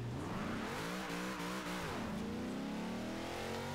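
A stock-tuned muscle car launching at a drag meet in Forza Horizon 2, its engine revving up loudly, dipping briefly at a shift and then climbing again in a steady rising whine, with no talk.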